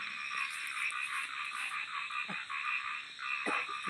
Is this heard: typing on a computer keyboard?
no